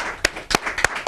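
Applause for a guest on a talk show: a small group clapping in a few distinct, close bursts, brief and moderately loud, with no one speaking.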